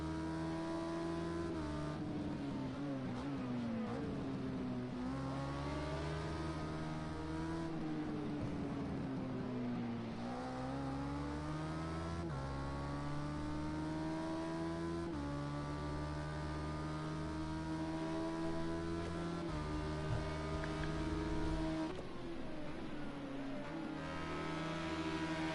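A time attack race car at Oulton Park, heard from the cockpit: a loud, continuous engine note rising and falling through gear changes and revs over the whole stretch, with no talking.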